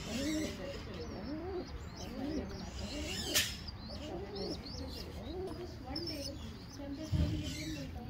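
Racing homer pigeons cooing in repeated soft rising-and-falling calls while feeding their young, with chirps and rustling nearby and a brief sharp click midway, no voices.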